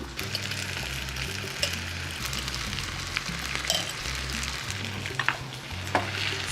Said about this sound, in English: So now we're mixing the nopalitos with the onion